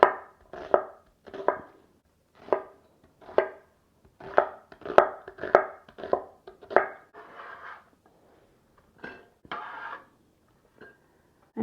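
Knife chopping an onion on a board for pot roast, a run of sharp, close, irregular taps with short pauses between bursts.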